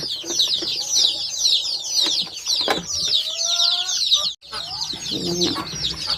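Chickens cluck close by, mixed with constant high chirping peeps, with a short break just before the end.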